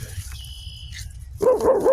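A man imitates a dog with his voice, giving a short burst of loud, harmonic barking sounds near the end after a quieter stretch of outdoor background noise.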